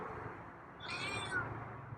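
A single feral cat meow, fairly faint and high, rising briefly over a quiet room hum.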